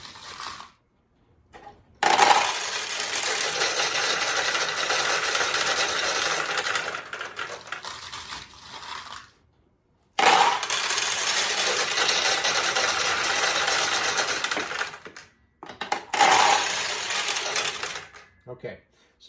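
Steel balls rattle and clatter through a 1972 Nishijin Model A Recycler vintage pachinko machine in three long loud bursts with brief pauses between, a dense metallic cascade with no talk over it.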